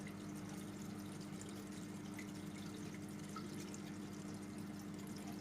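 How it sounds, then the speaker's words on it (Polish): Steady low hum of a small aquarium pump with continuous gentle water flow and trickling into a chamber, quiet and unbroken throughout. "Pompa wystartowała."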